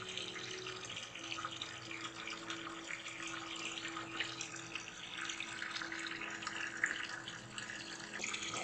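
Cold water runs steadily from a tap into a vessel being filled for an indigo dye vat, a continuous hiss and splash held close and alone for the whole stretch.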